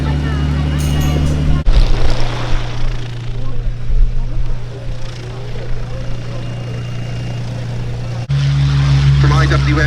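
Two Strikemaster jets roll along the grass runway at the Duxford summer air show, a steady loud engine drone with strong low hum that thins in the middle and swells again near the end, with voices mixed in.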